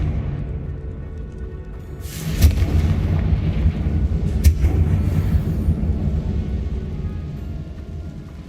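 Confringo spell blasts in Hogwarts Legacy, heard as two deep, rumbling explosions a couple of seconds apart over a low ambient drone, moderately loud and without speech.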